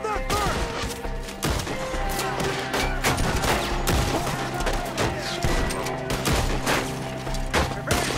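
Rapid gunfire from the video game Red Dead Redemption 2, with dense volleys of rifle and pistol shots cracking over a loud in-game battle mix. Shouting voices are heard under the shooting.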